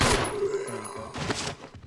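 Gunfire from the 2002 Resident Evil remake: a fast burst of close shots with thuds at the start, then a second flurry near the middle, loud and unaccompanied by talk.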